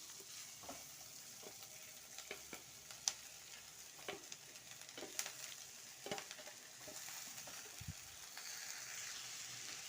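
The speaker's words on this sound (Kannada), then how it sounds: "ನೋಡಿ ಹಾಕ್ಬಿಟ್ಟು ಸ್ವಲ್ಪ ಚೆನ್ನಾಗಿ ಫ್ರೈ ಮಾಡ್ಕೊಳ್ಳೋಣ" Drumstick leaves and horse gram frying in a pan, a steady close sizzle with scattered crackles and pops as the greens hit the hot oil and get stirred.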